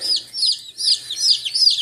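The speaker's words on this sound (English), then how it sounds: "Oh, they're the baby chickens." Baby chicks, bright yellow Buff Orpington and browner Americana chicks, peep in rapid high repeated chirps, close and continuous with no talk.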